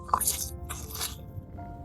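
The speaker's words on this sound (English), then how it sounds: "These tenders are so crunchy and juicy." Close, loud crunching bites into crispy hot chicken tenders, two or three sharp crackly bursts followed by quieter chewing.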